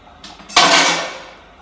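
Metal spoon strikes and scrapes a cooking pot of chicken corn soup as beaten eggs go in, giving a soft knock and then one loud ringing clatter that slowly dies away.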